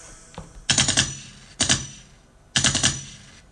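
Three separate bursts of rapid automatic gunfire, each a quick rattling string of sharp shots lasting under a second, spaced about a second apart and loud against a quiet background.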